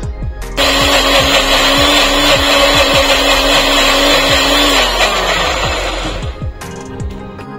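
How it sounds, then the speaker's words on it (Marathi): Mixer grinder whirring loudly at high speed for several seconds, a steady motor whine that slows and fades as it's switched off, with clattering underneath. "तर आता आपण हे सगळे साहित्य मिक्सरला एकदा वाटून घेऊ।"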